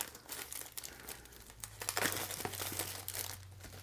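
Plastic wrap crinkles and tears as it is peeled off a box of Google Pixel Buds earbuds, close and fairly quiet, with a steady low hum underneath.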